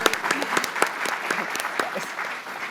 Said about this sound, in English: But I think she needs another round of applause, actually.